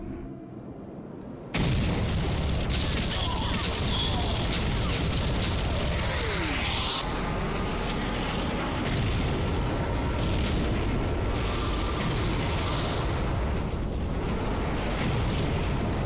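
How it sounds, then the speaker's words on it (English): Airstrike explosions in the Rogue Trooper video game. After a brief quieter moment, a massive blast erupts into a continuous, loud, rumbling roar of detonations that holds at full strength to the end. "Rogue! Airstrike!"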